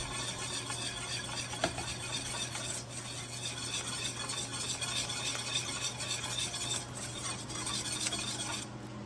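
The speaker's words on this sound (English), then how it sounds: "you just want to just keep on stirring until it's nice and smooth" Confectioner's sugar being stirred into a dessert mixture with vanilla and salt, a continuous soft scraping and rubbing of spoon against bowl, faint and steady, no voices.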